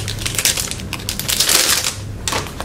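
Crinkling and crackling of plastic packaging as a Happy Planner sticker book is opened, a steady close rustle with a brief pause before a final burst of crinkles.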